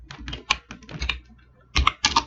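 Bursts of quick, close keystrokes on a computer keyboard as a line of Java code is typed, clustered clicks separated by a short pause, fairly loud with no talking.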